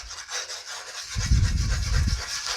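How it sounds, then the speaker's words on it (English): A whisk scrapes and swirls through orange caramel in a pan, a close rhythmic rubbing with a heavier burst of strokes in the middle. "I'm just using my whisk to kind of get it all stirred around"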